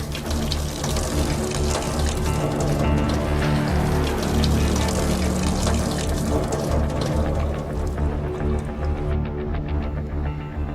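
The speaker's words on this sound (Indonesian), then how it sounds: "Kok ada suara air ngucur ya?" Water runs steadily from an open household tap, a continuous broadband rushing that stays close and fairly loud throughout, thinning slightly near the end.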